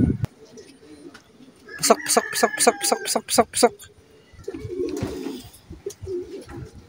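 Racing pigeons arriving at a loft after a 97 km race in rain, with rapid wing claps and rhythmic cooing up close, and someone speaking briefly.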